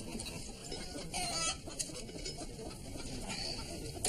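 Hens clucking in a farmyard, a run of close, busy clucks and soft fowl chatter over a noisy outdoor background, without clear speech.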